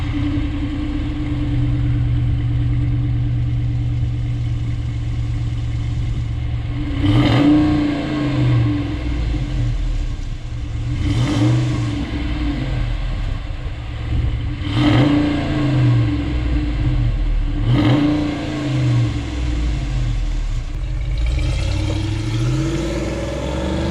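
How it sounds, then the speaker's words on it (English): A 2014-or-newer Ram 2500 pickup on its stock exhaust idles with a deep rumble, then is revved in four separate sharp bursts spaced several seconds apart, each climbing and falling back to idle, loud and close. "I'm going to go ahead and put some clips in from his truck on the stock exhaust"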